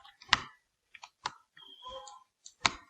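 Sharp computer mouse clicks sound close to the microphone, a handful of crisp isolated taps separated by short pauses, with faint handling noise in between and no speech.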